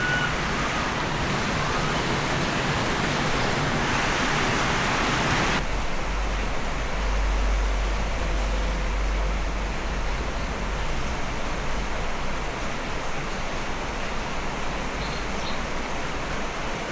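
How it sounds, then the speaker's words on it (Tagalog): Steady rain falls continuously, a dense, even hiss that stays loud throughout, with a deeper rumble joining partway through. "Yan ang ulan."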